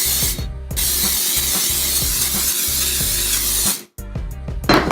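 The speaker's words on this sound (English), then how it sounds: "I'm gonna spray down this bowl with just some organic extra virgin olive oil." A steady hissing spray of extra virgin olive oil into a bowl runs for several seconds, briefly cutting out, with soft clicks and knocks underneath.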